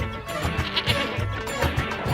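A goat bleats several times in short, wavering cries, fairly close, over a low background murmur.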